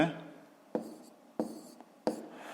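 Numbers are written by hand with a pen on paper, three close scratchy strokes spaced apart, the first overlapping the tail of a voice, otherwise quiet between strokes.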